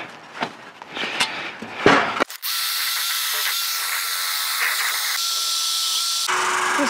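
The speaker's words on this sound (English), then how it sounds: "let's get a drill, this wire wheel, and get going." A drill spinning a wire wheel grinds rust off a metal flange, a steady, loud abrasive whir running continuously after some initial handling clatter, its pitch shifting slightly partway through.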